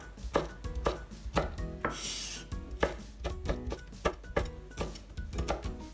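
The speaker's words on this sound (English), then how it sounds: "And the kombu kelp, I'm just gonna cut into pieces. I cut it in half, and then just small strips." A knife cutting kombu kelp into small strips on a board: crisp, close, rhythmic chops, roughly a dozen strikes in quick succession with a short rustling pause between.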